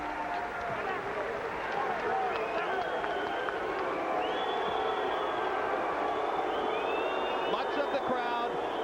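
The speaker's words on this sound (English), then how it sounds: "Much of the crowd booing Pernell as he stands on the ring ropes in the corner in his characteristic victory gesture" A boxing arena crowd at a world title fight boos the winner standing on the ring ropes, a dense, steady roar of many voices with scattered whistles running throughout.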